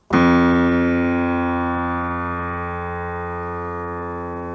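A single low piano note on a repaired bass string, neighboring string muted, struck once, ringing out clearly and steadily as it slowly fades, heard alone.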